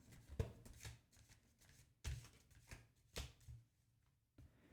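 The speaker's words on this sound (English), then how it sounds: "So I'm going to shuffle the cards a little more." Tarot cards being shuffled by hand in a quiet setting: soft, papery riffles and taps arrive in several short bursts with brief pauses between them, close and gentle, with no talking.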